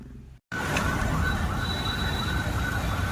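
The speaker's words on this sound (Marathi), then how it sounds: "अग्निशामक दल" A fire brigade engine's siren wails steadily in road traffic after a brief gap, loud and close with a sustained tone over constant engine and traffic noise.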